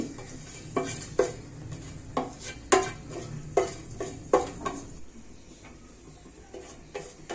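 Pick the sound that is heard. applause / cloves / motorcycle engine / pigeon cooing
cloves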